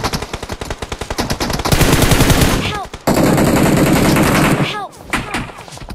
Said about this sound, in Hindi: वो दूर से पड़ी है फायर सुन रहे हो